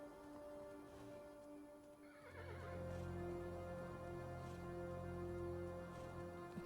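A horse whinnies in a video game over a low rumble and faint hoof clops, with a steady musical background, fairly quiet.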